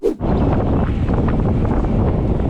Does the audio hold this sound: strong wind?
yes